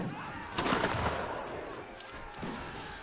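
Dense, continuous gunfire from a 16th-century battle in Mount & Blade: Warband, with overlapping cracks and booms blending into a loud, noisy roar, busiest in the first second.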